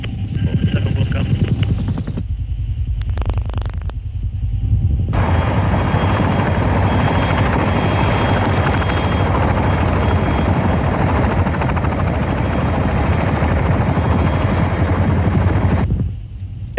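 AH-1 Cobra attack helicopter in flight near a Marine expeditionary airfield, its steady loud rotor thump and turbine roar filling the air, dropping out briefly twice early on before holding constant to the end.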